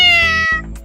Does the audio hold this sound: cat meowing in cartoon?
yes